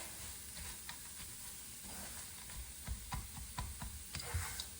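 Chopped cashews and pistachios being stirred into a cooking mixture, giving a steady scrape-and-clatter of a spoon with soft sizzling underneath, fairly close and quiet, with no talking.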